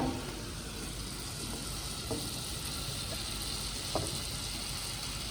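Garlic and rosemary frying in hot melted butter in a pan for a Cajun ribeye, a steady soft sizzle held at an even level throughout with a couple of faint clicks.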